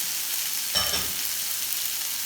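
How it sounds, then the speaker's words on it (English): Lamb shank meat sizzles steadily in a hot pan as it browns, a constant hiss with a brief louder crackle partway through. "And it's going to sizzle a bit like that."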